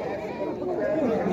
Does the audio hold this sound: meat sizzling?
no